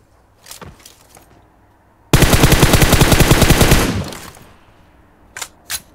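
In a shooting video game, a sustained burst of automatic gunfire sprays for about two seconds, loud and close, framed by a few softer shots and thuds before and after.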